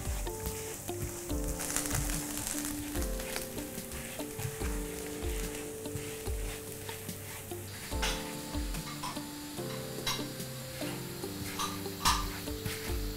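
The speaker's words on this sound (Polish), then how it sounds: "Na patelnię rzucamy granulat. I smażymy go," Vegan soy granules frying in a pan with a soft continuous sizzle, punctuated by repeated stirring scrapes and light clinks of a utensil against the pan, no talking.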